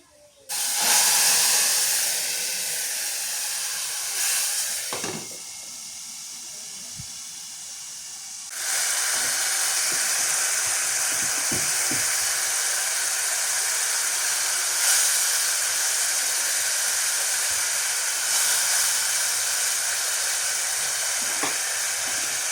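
Lentils poured into hot mustard oil with fried onion and garlic, setting off a loud steamy hiss that drops briefly, then surges back and holds as a strong, steady sizzle close by.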